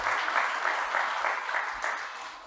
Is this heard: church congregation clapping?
yes